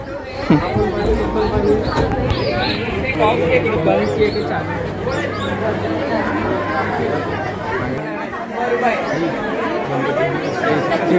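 Crowd chatter fills the grounds of Harihareshwar temple on Kartiki Ekadashi, a dense, steady hubbub of many overlapping voices near and far, with a low hum running underneath.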